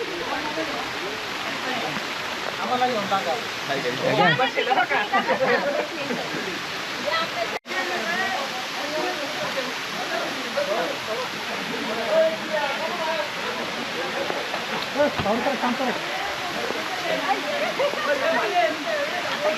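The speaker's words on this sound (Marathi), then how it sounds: "आता आपण आंब्रेला फॉलला आलेलो आहोत" Umbrella Falls at Bhandardara in heavy monsoon rain roars as a constant broadband rush of falling water, with people talking over it almost throughout.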